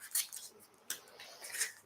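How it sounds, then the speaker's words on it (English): Scissors snipping open a plastic tofu package in a home kitchen, a few quick crisp cuts and rustles spread over a couple of seconds, close and moderately loud with no talking. "I have a scissors over here, so I'm going to just cut that open."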